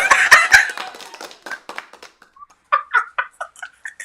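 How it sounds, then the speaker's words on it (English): A few sharp, close hand claps during a live stream, followed by short vocal sounds and brief pauses. "And you really gonna clap for that?"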